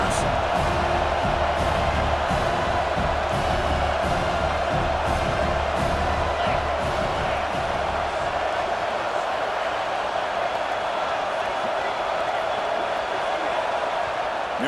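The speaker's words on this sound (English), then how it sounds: "Listen to the crowd energy here in the early going" Steady roar of a packed Notre Dame stadium crowd in a college football video game, a broad, unbroken wash of noise that holds constant throughout with no distinct cheers.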